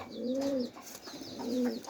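A pigeon gives two soft cooing calls, each a short low throaty phrase, close but quiet, with faint chirps in the background and no speech.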